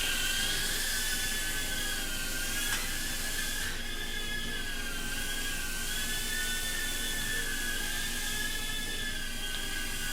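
A small toy drone bought from Banggood hovers nearby with a steady, high-pitched whine of its propellers, holding a constant loudness throughout with a slight pitch wobble.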